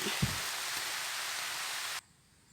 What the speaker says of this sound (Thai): ฝนมาแล้วพี่น้อง